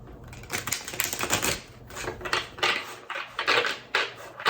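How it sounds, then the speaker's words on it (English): Tarot card deck being shuffled by hand, a close series of quick riffling and flicking bursts, crisp and papery, repeating in short irregular runs with brief pauses. "So I'm going to shuffle them just one more time"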